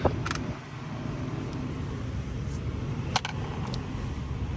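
A 2004 Toyota Sequoia engine idles with a steady low rumble, close by, broken by a few brief clicks and ticks.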